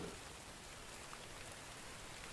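Steady rain falls in the survival video game The Infected, a continuous even hiss of drops on surfaces filling the whole moment with no breaks or voices.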